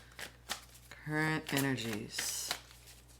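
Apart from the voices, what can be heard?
shuffling tarot cards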